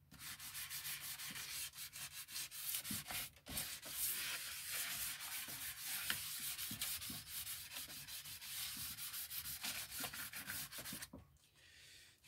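Continuous abrasive power-tool sanding of epoxy, a harsh rubbing hiss close by with rhythmic strokes and brief pauses, cutting off near the end.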